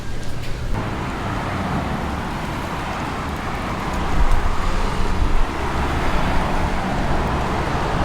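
Steady street traffic on a busy Honolulu road, a continuous broadband rumble of passing cars and buses that swells louder midway as vehicles go by close, with no talk.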